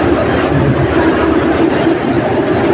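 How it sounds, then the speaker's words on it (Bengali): The Indore Intercity Express pulls out of Nagda Junction station in Madhya Pradesh with a loud, steady rumble and rolling roar close by, heard without any talk. "চলো, ট্রেন ছাড়ার টাইম হয়ে গিয়েছে"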